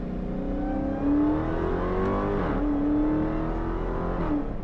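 A 2022 Dodge Charger Hellcat Redeye drops to second gear and its engine revs up, a steady, close, droning roar that rises and falls in pitch with each surge.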